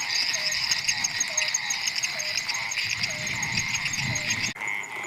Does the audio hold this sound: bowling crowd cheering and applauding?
no